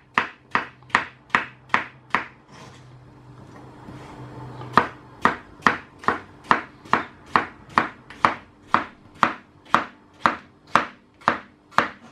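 A knife chops overgrown cucumbers for pickling on a board, sharp evenly spaced strikes in two runs separated by a brief pause with a softer rubbing sound between them.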